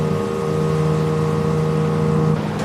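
A boat engine runs steadily out on the water at a rescue scene where gas is spilled, giving a constant droning hum with an even tone and level for over two seconds before it cuts off near the end.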